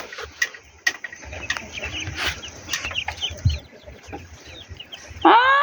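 Chickens cluck softly and intermittently nearby amid outdoor rustling, with a louder squawk at the very end.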